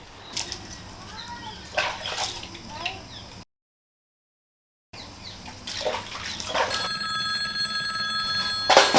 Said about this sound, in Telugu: బిందు ఫోన్ చూడరా